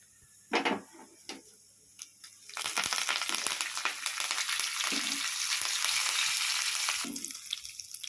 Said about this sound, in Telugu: పోపు వేసాను కదా, పోపు వేగుతుంది.